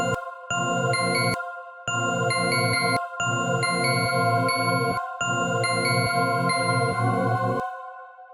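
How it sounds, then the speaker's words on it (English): A bell melody played on a software instrument in FL Studio for a drill beat, bright ringing chime notes over a steady rhythmic pattern, repeated in three phrases with short pauses between them. "we can use these bells"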